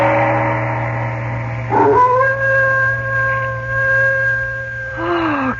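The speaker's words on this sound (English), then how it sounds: "No sound can be heard but the ominous howling of a dog." A dog howls in long, mournful, wavering tones that rise and hold steady, then slide downward at the end, carrying clearly over a low, constant hum with no other voices.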